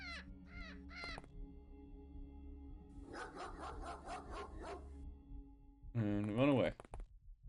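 A dog in the X-COM video game barks: a few sharp, clear barks at the start, then a rapid run of short yaps, and finally one drawn-out, louder yelp, all fairly close with no talk over them.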